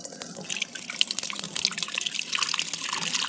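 Water being drawn and poured on a rooftop, a close, busy splashing and dripping with irregular trickles and spatters throughout, no voices.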